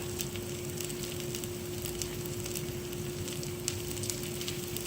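Potato cakes sizzle and fry steadily in a hot pan, a constant crackling hiss with scattered pops, close and moderately quiet, with no talking.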